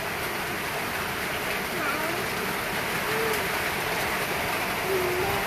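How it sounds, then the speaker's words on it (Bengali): Steady rain falls during a long power outage at home, making an even hiss throughout. A few faint bird coos drift in the background. "সাইদুল, সাইদুল, তুমি বৃষ্টি দেখো?"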